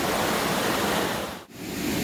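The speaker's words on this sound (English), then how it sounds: "this pretty little waterfall here is just tiny compared to Rock House Falls" A small waterfall near Rock House Falls rushes in a steady, loud broadband roar heard close up, with a brief dip in the noise midway, and no talking.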